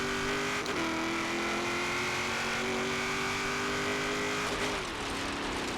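A drag car engine in a racing video game revs hard through short gears on a quarter-mile run, a loud steady buzzing drone that climbs in pitch, drops sharply at each shift and climbs again.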